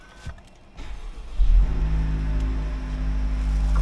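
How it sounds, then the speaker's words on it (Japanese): A Honda Civic Type R FL5, brand new, has its engine started: a short starter whir, then the engine catches with a loud surge and settles into a steady, deep idle, heard up close with no talking. "ついにエンジンをかけてしまった。"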